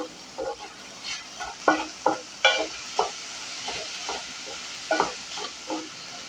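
Shiitake mushrooms fry in a pan with a continuous sizzle, broken by a series of sharp scraping and stirring strokes at irregular intervals, with no talking.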